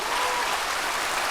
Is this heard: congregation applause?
yes